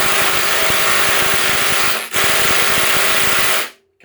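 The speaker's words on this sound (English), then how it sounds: "Let's see what the D-Walt can do. So let's try out the D-Walt." A DeWalt impact driver hammers loudly in rapid rattling bursts against a stubborn Hilti screw, with a brief break midway before it stops abruptly; no voices.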